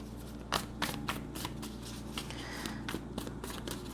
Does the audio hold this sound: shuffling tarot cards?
yes